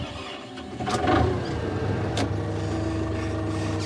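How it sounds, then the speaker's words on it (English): Kubota M105X tractor with a 105-horsepower engine running on a farm, a steady close diesel drone with a faint rattle and no talk over it. "this is our big tractor. It's a 105 horsepower Kubota."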